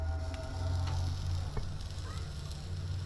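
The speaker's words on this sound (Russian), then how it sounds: "Это шипение." Pieces of lamb fry in a hot pan at a housewarming in Datça, Turkey, giving a steady close sizzle with a few scattered crackles and pops over a low background hum.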